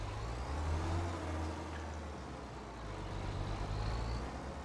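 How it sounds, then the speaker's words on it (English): New Holland tractor engine idling and running steadily in a farming simulator game, a continuous low rumble with slight swells in loudness and no talk over it. "Start up the engine,"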